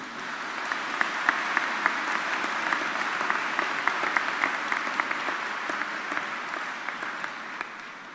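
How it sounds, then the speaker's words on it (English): Audience applause at a university spring convocation ceremony in a large hall, a sustained, moderately distant roar of many hands clapping with a few sharper individual claps standing out. "Could I have a round of applause for these people?"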